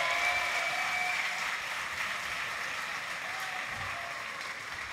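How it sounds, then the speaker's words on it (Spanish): Audience applause at a League of Legends esports event, a steady wash of clapping heard from a distance and fading slightly, with no talk over it. "por favor, un aplauso para vosotros."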